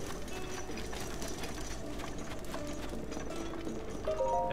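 Horse hooves clip-clopping in Zelda: Breath of the Wild near a wooden stable, a steady rhythmic trot over game music and ambience, with a brief brighter tonal chime near the end.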